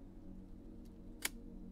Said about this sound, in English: Sounds a little bit grindy winding on, but the actual release, beautiful sound.